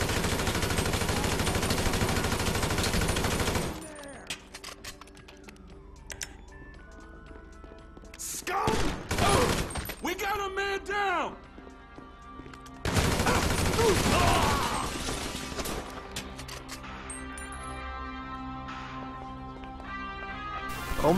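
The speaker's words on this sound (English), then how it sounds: "Shots fired." Gunfire in a GTA V roleplay game at a gas station, loud bursts of rapid automatic shots alternating with quieter gaps, with music-like tones and game sounds in between.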